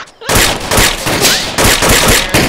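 Rapid bursts of automatic gunfire from an Arma III firefight, loud and close, with repeated volleys cracking in quick succession after a brief quiet start.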